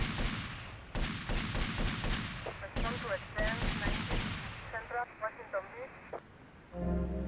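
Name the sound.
gunfire in the video game Grand Theft Auto Vice City Definitive Edition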